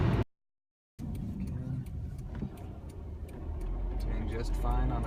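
A 1996 Honda Civic LX driving uphill on the road, a steady low engine and road rumble from inside the cabin, briefly cut to silence near the start, with faint ticking and a voice talking.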